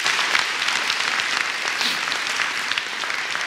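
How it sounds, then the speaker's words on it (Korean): Steady applause from an audience, a dense wash of clapping that holds at an even level throughout with no voices standing out. "박수 한번."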